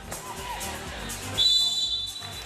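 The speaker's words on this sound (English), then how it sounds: "And a whistle on the baseline on the way up." A referee's whistle sounds at a 3x3 basketball game, a single sharp sustained blast cutting over the arena crowd noise about midway through.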